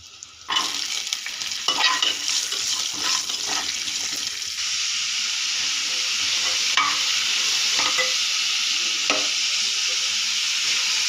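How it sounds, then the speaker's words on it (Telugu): Boiled chickpeas fry in a pan with a loud, continuous hissing sizzle, and utensil scrapes and stirring clatter are most frequent early on. "బాగా ఫ్రై అయ్యాక మనం ఉడకబెట్టుకున్న పక్కన ఉంచుకున్న శనగలు వేసుకోవాలి"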